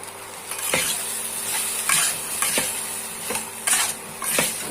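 Ground spices (cumin, coriander and chili powder) fry with garlic in a hot pan, a steady loud sizzle broken by repeated scraping stirs of a utensil against the pan.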